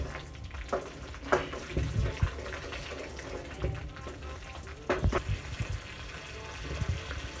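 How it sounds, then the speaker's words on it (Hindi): Turmeric fries in a pan for a Himachali-style rohu fish curry, giving a soft, continuous sizzle and bubbling with occasional spattering bursts, close and moderately loud. "अब हल्दी को 30 से 35 सेकंड के लिए भूनने दें।"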